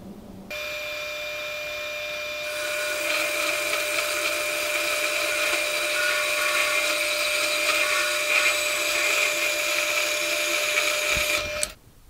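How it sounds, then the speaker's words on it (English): A milling machine cuts a round piece held in a mill vise with a V-block, giving a loud, steady, high whine that runs for about eleven seconds and then stops abruptly. "This is how I have it set up in the mill."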